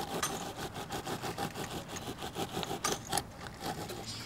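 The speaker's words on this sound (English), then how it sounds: "take a 2x4 and place it on top of the form, and then slowly drag it towards the back of the form" A 2x4 dragged over wet concrete in a form to screed it smooth, a rhythmic scraping and rasping in repeated short strokes, close up and moderately quiet.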